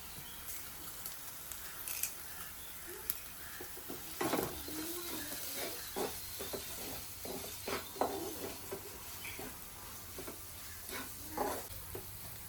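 Chili powder and curry leaves sizzle in hot oil in a frying pan for a drumstick, brinjal and potato curry, a steady crackling hiss with scattered sharper pops and a few stirring scrapes throughout.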